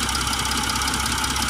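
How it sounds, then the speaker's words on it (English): A Mercedes GL350 with a 3.0 V6 diesel and a soot-clogged particulate filter idles close by, giving a steady, even rumble with a light knocking texture and no talk over it. "So we've got the engine running"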